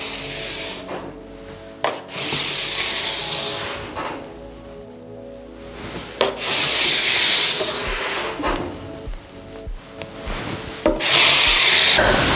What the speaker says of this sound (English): we just finished scraping the board there